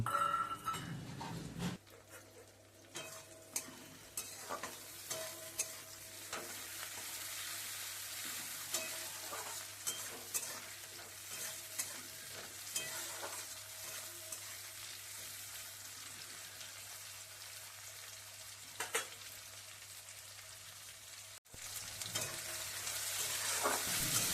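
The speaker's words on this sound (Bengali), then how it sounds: "টমেটো পেঁয়াজ ভালো করে ভাজা হয়ে গেছে" Sliced tomato and onion fry in hot oil in a pan during Bengali home cooking, with a steady close sizzle and frequent clicks and scrapes of stirring throughout, no talking.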